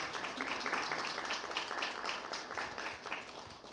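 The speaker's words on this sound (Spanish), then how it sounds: "Un aplauso, por favor." Modest audience applause at a book presentation on regional cooking, a quiet, fairly distant round of hand clapping lasting a few seconds with no speech over it.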